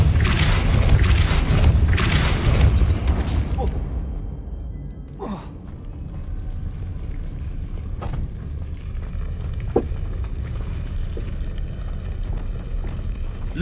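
A Depulso spell is cast in a Harry Potter video game with a loud, broad whooshing burst that fades after a few seconds, leaving quieter ambience and a few sharp magical clicks.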